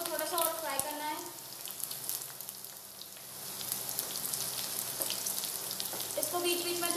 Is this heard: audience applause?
no